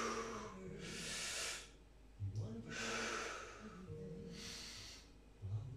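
Heavy breathing in and out during a gym exercise session, three long breathy exhales spaced evenly in a slow rhythm, close and fairly faint.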